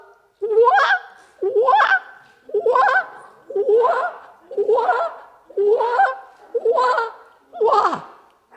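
An audience imitates duck honking in unison at a spoken word festival, eight loud nasal quacking bursts in a steady rhythm, each about half a second long with brief pauses between.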